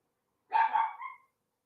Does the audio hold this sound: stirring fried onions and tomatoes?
no